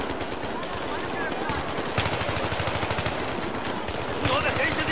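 Battlefield 3 campaign combat with sustained automatic gunfire, tight rhythmic bursts of shots near and loud, alongside ongoing battle noise and shouting voices.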